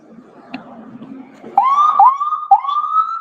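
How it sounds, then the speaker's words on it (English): Police car sirens start after a stretch of low murmuring, loud rising wails that repeat in quick cycles. "Hear police sirens."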